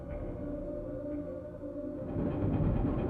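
Tram in Resident Evil 2 starting to move, a low steady rumbling drone with rail hum that swells louder in the final second as it gets underway.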